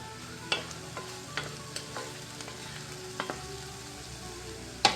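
Chicken and spice filling for bread rolls is stirred and fried in a pan, with a steady soft sizzle and several sharp spatula scrapes and clinks spaced through it, fairly quiet and without talk.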